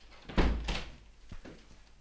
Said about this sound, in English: Do you mind knocking before you barge into the room next time?